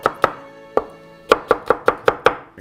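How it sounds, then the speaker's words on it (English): A knife chops a shallot finely on a cutting board while venison meat sauce is being prepared, giving about nine crisp, loud, close taps in an uneven rhythm with no talking. "And this is the shallot. We're cutting up nice and fine too."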